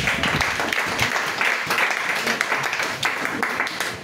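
A church congregation applauds Jesus during a lively worship service, sustained clapping and cheering filling the room with voices mixed in throughout.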